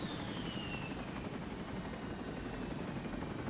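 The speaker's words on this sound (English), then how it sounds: "Get that fucking Chinook out of the airspace." Chinook helicopter in a military video game, heard as a steady, broad rotor and engine roar that holds at even loudness throughout, with a faint high whine sliding downward early on.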